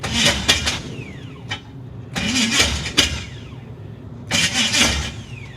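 A 1979 GMC C35 camper's engine cranks in three separate bursts, each a loud, close, uneven churning spin of the starter separated by short pauses, with no talk over it.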